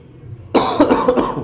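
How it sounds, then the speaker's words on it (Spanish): A single close, sharp cough bursting out after a brief quiet moment, with a short rough follow-up. "Perdónenme un poquito, pero esta tos no me quiere dejar."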